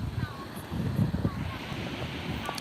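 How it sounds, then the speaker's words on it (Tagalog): Sea waves wash onto a beach in a steady, moderate rush, with wind buffeting the microphone and a few brief vocal bits mixed in. "Tumataas na uli yung alon."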